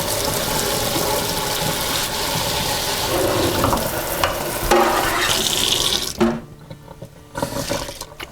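Tap water runs steadily and loudly over turkey stones in a strainer at a sink, then cuts off near the end, leaving some quieter splashing and handling.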